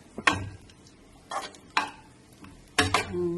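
Mixed vegetable rice stirred in a pan with whole pepper, giving four or five separate scraping, rustling strokes against a soft low sizzle, close and fairly quiet.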